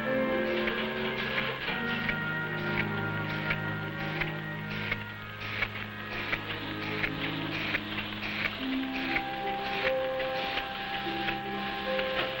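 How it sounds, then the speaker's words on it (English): A 1950s capsule encapsulating machine for Nutrilite supplements places empty capsules into a circular metal disc, giving a steady mechanical whir with rhythmic clicks and tonal hums running continuously at moderate level, with no voices. "This machine places empty capsules into a circular metal disc."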